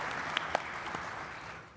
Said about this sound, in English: Let's give our panelists a nice round of applause to get things started.